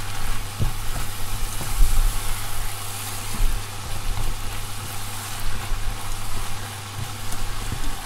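A steady, hissing sizzle of minced meat frying in a hot pan, continuous and close, with faint clinks from stirring and a low background hum.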